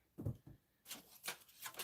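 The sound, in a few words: shuffling a deck of tarot cards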